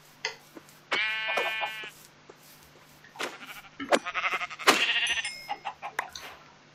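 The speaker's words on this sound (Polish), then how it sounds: "Ale patrz, owce są." Sheep bleating in the Minecraft video game, several separate bleats spaced over a few seconds, clear and fairly close, with no talk over them.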